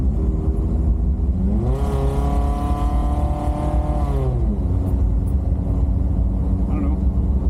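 A Toyota 22RE engine revs quickly to a few thousand RPM through a 2.25-inch exhaust with header, catalytic converter and performance muffler, one rising-and-falling rev swelling over a constant idle rumble near the listener.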